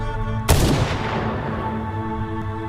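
A single loud gunshot in a film scene, a sharp blast with a long rumbling decay over a steady background drone and music.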